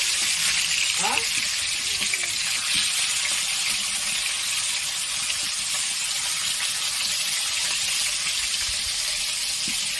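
Rohu fish frying in mustard oil makes a steady, loud, close crackle and hiss that holds evenly from start to finish, with a brief clatter early on and no voices.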